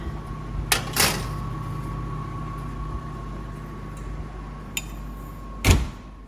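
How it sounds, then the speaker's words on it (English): An oven door opens and shuts as garlic bread goes in, with a couple of close clunks near the start and another solid thud near the end over a steady appliance hum. "Garlic bread is going in the oven."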